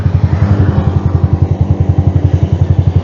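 A Yamaha Sniper 155R ABS motorcycle is ridden on a daily commute, its engine putting out a loud, steady pulsing drone with rapid rhythmic throbbing, heard close under rushing wind noise without speech.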